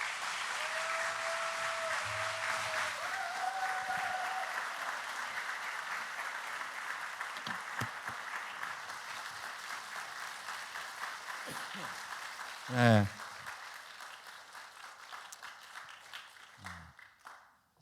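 A church congregation at a new-year revival meeting applauds warmly as a pastor is welcomed, with a few sustained whistled cheers early on; the clapping slowly thins and fades while someone briefly speaks.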